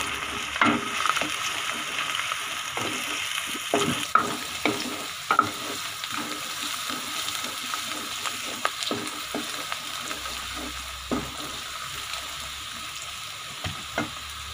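Finely chopped ginger and garlic sizzle steadily in a pan while cooking moringa flower masala, with intermittent scraping and stirring clicks over a soft, continuous frying hiss.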